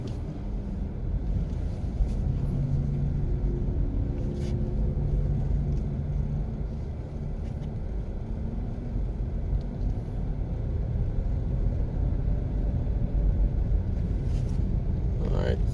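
A car driving along the newly finished lanes of the Barbican road improvement project, with a steady low engine and road rumble throughout and some wind buffeting.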